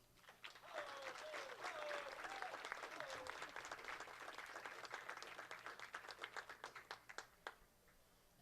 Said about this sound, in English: thanking them with a warm round of applause